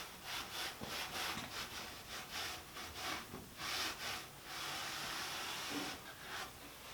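A cloth rubs excess oil off a freshly finished wooden tabletop in steady back-and-forth strokes, a soft close swishing that repeats in a loose rhythm with no talking.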